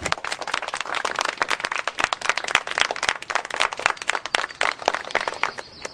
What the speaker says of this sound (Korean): 나영이한테도 축하의 박수를 쳐주자.